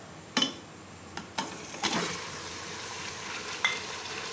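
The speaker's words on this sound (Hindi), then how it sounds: "मटन को खूब अच्छी तरह से भूनें" Mutton pieces frying in hot oil with masala, a steady low sizzle broken by a few sharp stirring clatters from the pan, close up with no talking.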